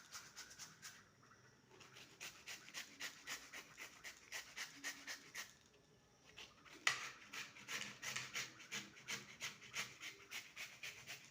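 Half a papaya is scraped down a hand grater in quick repeated rasping strokes, close and fairly soft, with a brief pause midway before the steady rubbing rhythm resumes.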